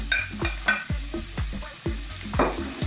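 Garlic cloves and sliced onion fry in sunflower oil over medium heat, a steady close sizzle broken by regular scraping stirs about every half second.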